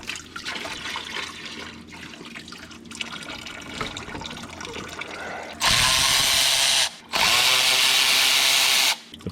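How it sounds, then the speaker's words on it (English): Work on a car engine in an LS-swapped Trans Am, where a hose clamp is removed with a power tool that gives two loud, close whirring bursts with a short gap, following quieter handling noises. "Let's take the hose clamp off first."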